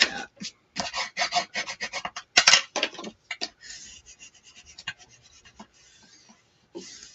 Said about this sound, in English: I'm just going to burnish it down, make sure all that glue gets dispersed.